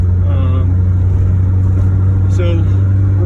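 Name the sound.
1986 Honda CRX exhaust while shifting gears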